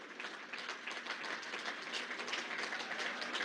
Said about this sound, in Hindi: सारे कार्यकर्ता मिलकर के जोरदार तालियों से आपका अभिनंदन करें